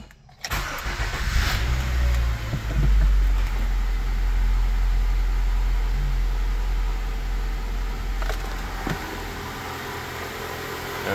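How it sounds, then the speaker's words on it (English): A 2001-2005 Honda Civic engine cranks briefly and catches, then settles into a loud, steady idle heard close up for the rest of the stretch. "let's go ahead and crank it up."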